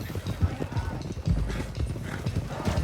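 Horses in a video game clip-clop at a quick pace with a whinny, hoofbeats rumbling steadily under a voice.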